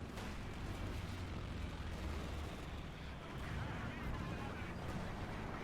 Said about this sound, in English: I think that's a fragmentation bomb coming in.